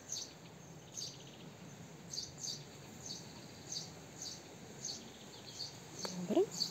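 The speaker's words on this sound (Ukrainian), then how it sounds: "Пташки співають, просто чарівні." Faint, high birdsong chirps repeat at a steady pace against a quiet garden background, with a brief louder call near the end.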